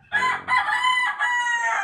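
A rooster crows loudly and close by, in a long, drawn-out call broken into several bursts, among backyard fighting chickens being bathed.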